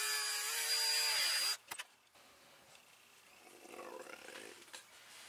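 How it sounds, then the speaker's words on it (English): A power drill whines loudly and steadily for about a second and a half while boring a hole in a prop gun build, then cuts off, leaving faint handling noises. "now let's find a drill bit, put that hole"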